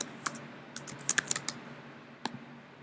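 Computer keyboard typing in an irregular burst of crisp clicks, with a lone keystroke after a pause, close and moderately quiet.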